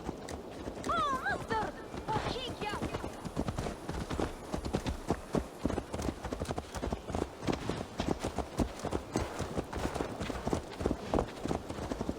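A horse's hooves clip-clop steadily in Assassin's Creed Valhalla, a quick even rhythm of hoof strikes running throughout, with a brief whinny early on and spoken dialogue over the top.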